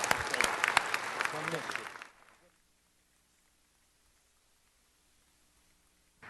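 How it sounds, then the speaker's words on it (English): Applause from the audience at a city council meeting, loud and dense with some voices, lasting about two seconds before cutting off to near silence. "One more round of applause for Dion."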